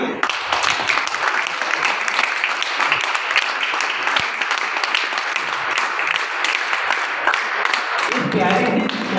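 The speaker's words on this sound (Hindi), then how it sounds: "प्यारे मुस्कान के लिए तालियां बजनी चाहिए और बजती रहना चाहिए।" Audience applause fills a prize announcement at a sports academy event in Harda, dense steady clapping held loud throughout before thinning at the end.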